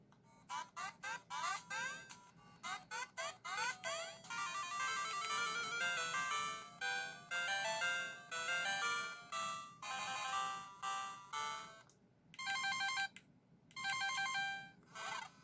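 Excitebike game audio from a Game Boy Advance SP: bright, chirpy electronic beeps and looping melodic tones in quick bursts with short gaps, faint and tinny from the handheld speaker, with no talk.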